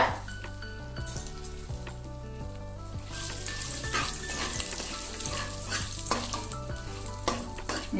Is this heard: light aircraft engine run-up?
no